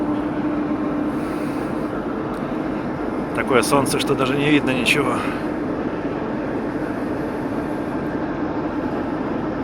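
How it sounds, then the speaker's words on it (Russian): A TEP70 diesel locomotive engine runs as a steady low drone heard from inside the cab, with someone speaking over it partway through. "Дизелек работает прекрасно."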